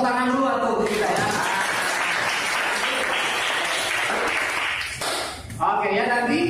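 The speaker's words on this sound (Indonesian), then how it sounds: "Yuk tepuk tangan dulu untuk kita ya." Classroom applause from students after a group presentation on electric circuits, sustained dense clapping for about five seconds, briefly dipping before resuming, with a teacher's voice speaking at the start and end.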